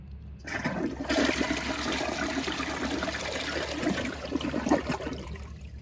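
A 2014 Sterling Windham toilet with a water-saving flapper flushes in one steady rushing surge of water lasting several seconds, then eases toward a trickle, heard close indoors.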